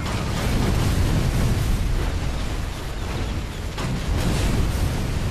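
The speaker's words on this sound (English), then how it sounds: "I'm just gonna keep dropping bombs" Bombs dropped in the video game Toy Soldiers War Chest burst in a dense, loud wash of explosive booms and rumbling blasts, sustained throughout with a few stronger surges.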